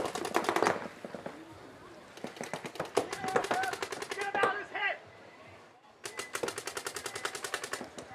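Paintball markers fire in rapid bursts during a USXBL paintball match, crisp repeated pops in fast strings at mid distance, broken by a short lull, with a commentator talking over the action.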